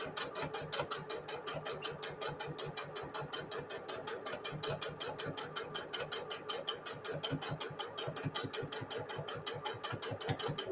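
A sewing machine stitches the long edge of a fabric mug cozy with a steady, rapid mechanical clatter. The needle beats in an even rhythm that runs close and continuous throughout.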